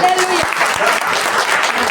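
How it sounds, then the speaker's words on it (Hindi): Church congregation claps steadily in a dense, continuous patter over two seconds, with voices mixed in beneath the applause. "ताली बजाइए, ताली बजाइए."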